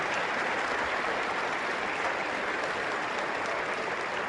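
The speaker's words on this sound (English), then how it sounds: "the crowd applauding the player." A basketball arena crowd applauds an injured player late in a game, a dense, steady wash of clapping that fills the whole stretch without a break.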